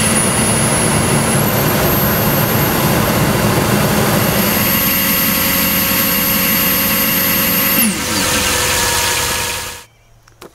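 A 2006 Toyota Tundra engine with a secondary air injection fault runs loud and steady with a high whine and a droning roar, then settles into a lower idle before cutting off near the end.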